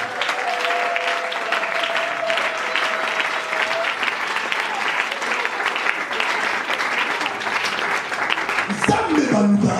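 A church congregation applauds steadily to acclaim Jesus, the clapping dense and sustained throughout with voices mixed in and a held tone early on, ending in a burst of louder sound.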